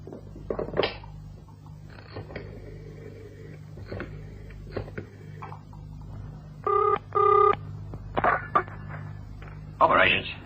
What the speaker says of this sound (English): May I use your phone?